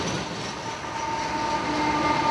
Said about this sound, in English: The train happens to still be here.